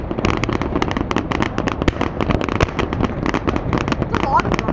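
Canada Day fireworks in Halifax burst and crackle in a dense, continuous barrage of sharp pops and bangs, loud and close, with voices of the crowd mixed in.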